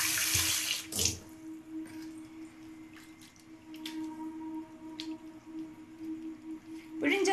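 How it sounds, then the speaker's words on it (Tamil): Plain tap water running over mushrooms in a sink, a gentle intermittent splashing stream with a few louder bursts and quiet gaps. "ஜஸ்ட் அதை வந்து சும்மா பிளெயின் வாட்டர் வச்சு வாஷ் பண்ண போகிறோம்"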